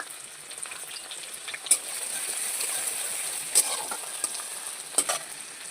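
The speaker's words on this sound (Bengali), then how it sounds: "তেলটা আমার গরম হয়ে গেছে এর ভেতরে আমি পেঁয়াজ কুচি দিয়ে দেবো পেঁয়াজটাকে সুন্দর করে ভেজে নেব" Chopped onion fries in hot oil with a bright, continuous sizzle, broken by a few brief clicks of the spoon against the pan.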